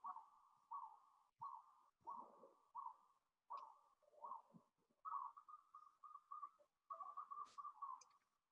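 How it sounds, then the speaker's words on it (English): Wild birds in the morning, a series of short repeated whistled chirps and calls in quick bursts, fairly faint and distant, with brief pauses between phrases. "Your birds are wild this morning, Stace."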